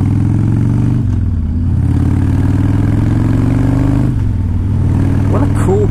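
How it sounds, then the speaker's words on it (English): A carbureted 2001 Harley-Davidson Dyna Wide Glide idles loud and close with a steady low rumble, the engine note dipping briefly twice. "It is carbureted, but it fires up good, runs extremely well. Idle's good after being warmed up for a little bit."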